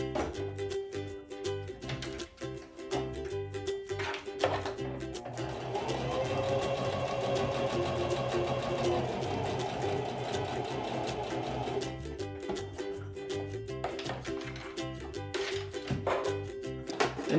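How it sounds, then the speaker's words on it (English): A sewing machine sewing around a twist tie on a fabric face mask runs in short bursts at first, then stitches continuously for several seconds before returning to quick, stop-start runs. "take your sewing machine and sew around the twist tie to secure that in place"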